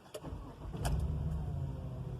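A 2018 Chevrolet Tahoe engine cranks briefly and catches, settling into a low, steady idle heard up close with no talking.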